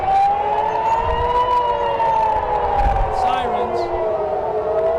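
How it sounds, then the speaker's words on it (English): Air raid sirens wail loudly and steadily over Tel Aviv during a missile alert, a continuous sustained tone rising and falling slightly over a constant roar of background noise. "Here we go, sirens."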